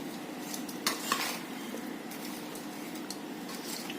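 Jackfruit pickle ingredients being stirred and mixed in a pot, a continuous soft scraping and rustling with a few light clinks of a utensil against the vessel, close, no voices.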